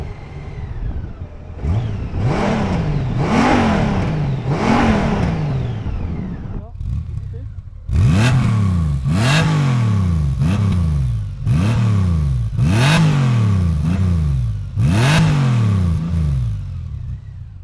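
A Honda Goldwing motorcycle engine starts and revs in repeated sharp bursts, each blip rising and falling, loud and close, with a brief lull before a second run of rapid, evenly spaced revs.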